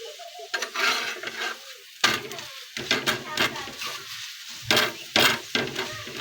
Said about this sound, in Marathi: एकदम छान असं दोन्ही साईडनं भाजून घ्यायचं आहे आपल्याला